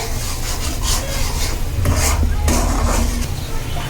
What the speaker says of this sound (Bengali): এবার পরিমাণ মতো লবণ দিয়ে এবার সুন্দর করে নাড়িয়ে দিচ্ছে।